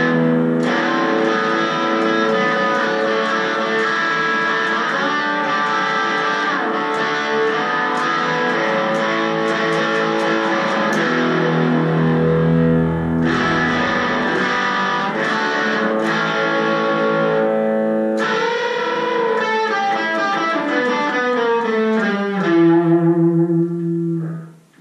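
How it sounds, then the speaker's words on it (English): Guitar played through an amplifier placed elsewhere in a house, its sustained distorted chords and notes blooming into a big natural room reverb, playing continuously for about twenty-five seconds before cutting off. "Big natural reverb."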